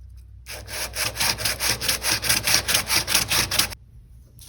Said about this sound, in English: you can just go ahead and start sanding it.